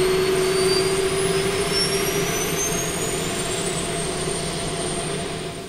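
A C-130 auxiliary power unit in the DCS flight simulator spools up as a loud, steady turbine whine and roar, with rising pitch tones over a constant low rumble and no speech.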